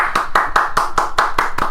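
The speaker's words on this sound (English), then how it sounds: "Golf clap." A single person claps about eight times in a steady, even rhythm, crisp and close.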